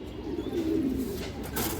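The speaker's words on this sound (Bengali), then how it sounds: "এই দেখেন আপনারা হাঙ্গারিয়ান বুদাপেস্ট মাদি হাই ফ্লেয়ার মাদি" A Hungarian Budapest high flyer hen pigeon gives one drawn-out low coo that swells in the middle, heard close over a steady room hum.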